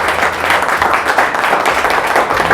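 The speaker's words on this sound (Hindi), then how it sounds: "इनके लिए तालियां ज़रा अच्छी वाली बननी चाहिए" Loud, close applause from an audience at a motivational speech honours a life and business coach, brisk dense clapping continuing steadily throughout.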